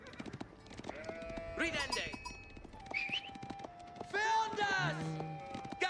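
Sheep bleat repeatedly in an Age of Empires match, game sound effects mixed with clip-clopping hooves and other unit noises while commentators talk over everything.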